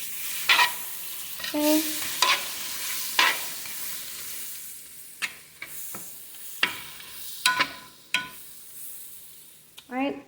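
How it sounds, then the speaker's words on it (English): Butter melts in a pot for a pecan-crusted sweet potato and chicken one-pot meal, with a low sizzle, scattered utensil clinks and stirring scrapes, and a brief spoken word. "So I'm going to add some more butter to the pot."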